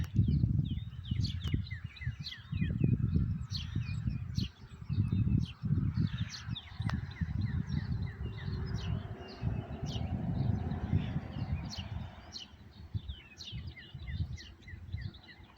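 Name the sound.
birds singing in the evening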